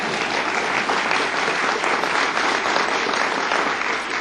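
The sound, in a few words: applause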